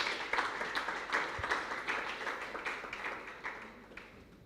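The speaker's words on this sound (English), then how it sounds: "A round of applause one more time for them." An audience at a business seminar panel claps for the panelists, a brief, faint patter of scattered hands from a modest crowd that tapers off after a few seconds.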